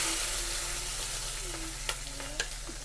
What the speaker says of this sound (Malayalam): എണ്ണ ഒഴിച്ചിട്ടുണ്ട്, കടുകിട്ട് കൊടുക്കണം.